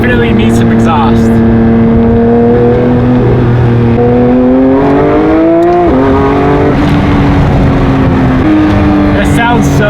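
Engine of a rebuilt 2024 Porsche GT3 RS revving and accelerating, loud and close, rising through the gears with a shift mid-way and a sustained howl, under a voice talking over it.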